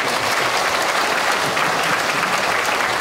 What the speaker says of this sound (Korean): 우리 의장님께 또 시의회에서 오신 우리 시의원님들께 큰 격려의 박수 한번.